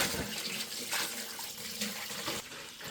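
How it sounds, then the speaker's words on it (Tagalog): Water runs steadily into a small stainless steel bucket on a farm in Korea, a continuous close splashing pour with no talk. "Lagyan natin ng tubig para mas maganda"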